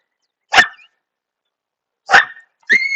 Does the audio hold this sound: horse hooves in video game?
no